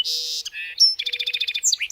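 A song sparrow singing alone, a bright, close song opening with buzzy notes and a clear whistle, then a rapid trill of repeated chirps.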